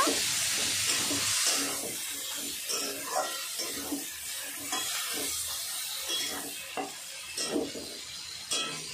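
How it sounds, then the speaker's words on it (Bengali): Tomatoes and spices frying in a pan while being stirred, a steady close sizzle and hiss with repeated scraping strokes of the spoon, louder at the start and then continuing evenly, with no talking. "সব কিছু এখন ভালো করে নাড়াচাড়া করে নেব।"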